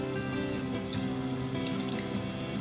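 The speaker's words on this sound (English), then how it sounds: "So now I am going to drop in this marinated cauliflower one by one into the oil." Marinated cauliflower pieces dropped one by one into hot oil for deep frying, giving a steady, dense bubbling hiss throughout with no talk.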